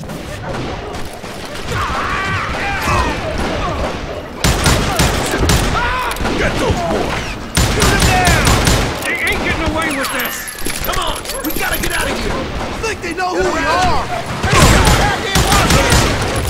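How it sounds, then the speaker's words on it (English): Gunfire in the Western shooter game Call of Juarez Gunslinger, during a Daltons shootout: dense volleys of rapid shots crackle and burst throughout, with someone talking over them. "bullets were flying every which way"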